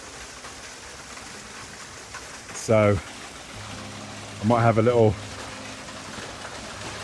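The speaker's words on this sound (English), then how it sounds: "got a waterfall behind us" A waterfall in Peru rushes steadily just behind, a constant wash of falling water with brief bursts of nearby talking over it.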